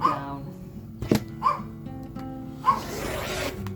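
An old dog, Joey, whimpers and gives a few short yips and barks, spaced out over a few seconds, fairly close, with a faint sharp knock partway through.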